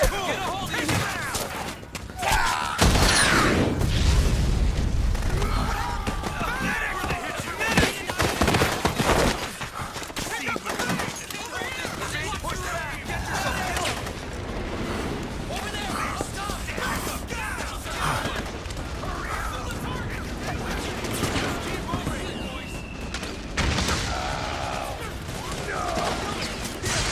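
Battle in Metal Gear Solid 4: Guns of the Patriots, with rapid bursts of gunfire, heavy RPG blasts and crashes rolling through, alongside intermittent shouted voices.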